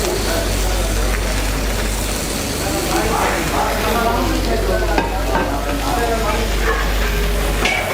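Marinated chicken satay pieces grill on a lightly oiled tawa, giving a loud, dense, continuous sizzle heard close up, with faint voices underneath.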